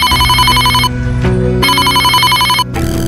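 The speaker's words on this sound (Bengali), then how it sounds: "হঠাৎ ল্যান্ডফোনটা বিকট শব্দ করে বেজে উঠল একবার।" A landline telephone rings loudly and close by, sounding two long electronic ring bursts separated by a brief pause. No one speaks.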